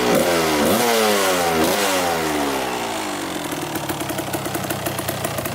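A dirt bike engine revs up twice in rising sweeps, loud and close, then settles into a steady idle with a rapid, even putter as it warms up, with no talking.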